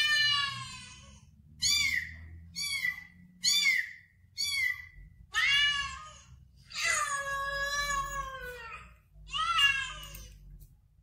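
A domestic cat meows about eight times in a row, clear and close, with short calls early on and longer, drawn-out cries toward the end.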